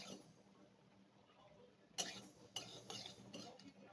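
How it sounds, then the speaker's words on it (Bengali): Poppy seeds and black mustard seeds dry-roast in a pan, giving a few faint, sharp crackles and pops after a quiet start. "এই সর্ষে পোস্তটা ফটফট করে ফাটছে।"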